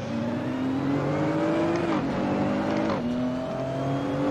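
Nissan GT-R race cars from the Assetto Corsa video game at Spa drone steadily, with engine pitch whining and shifting as the cars rev; no talking.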